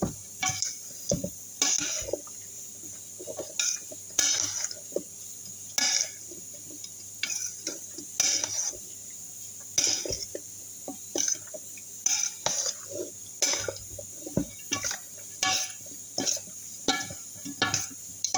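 A spoon scrapes and clinks against a pot while chicken stew is stirred and mixed, with repeated irregular knocks and scrapes throughout and no talking.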